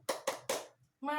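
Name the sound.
children clapping hands in a classroom chant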